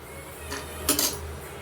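Fried almonds and cashews are tipped from a pan onto a plate, giving a short metallic clink and a light rattle of nuts, close and fairly quiet, with no talking.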